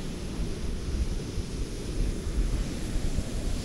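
Big ocean waves crash onto a beach in Mexico, heard as a steady, loud roar of surf mixed with wind buffeting the microphone and no voices.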